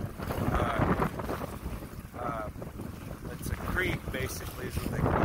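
Strong hurricane winds from Hurricane Sally buffet a microphone on a dock by an inland oyster bed, loud gusty rumbling and whooshing that surges and eases, while someone talks over it.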